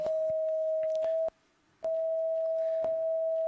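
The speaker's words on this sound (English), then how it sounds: "this is the sound of purple." A steady electronic tone representing the color purple sounds in repeated stretches, briefly cutting out partway through, with faint clicks marking each restart.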